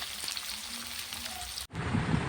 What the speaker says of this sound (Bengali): এবার হালকা একটু ব্রাউন কালার অবধি ভেজে নেব